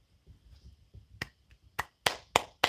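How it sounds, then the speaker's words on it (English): Several sharp hand claps from one person, starting sparse and growing louder, with the last few strong and close, over faint background murmur. "I'm gonna do an actual live clap too, for real."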